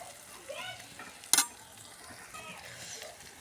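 Turmeric and ginger being stirred into fried onions in a frying pan, a soft sizzle with light scraping strokes and one sharp utensil clink partway through.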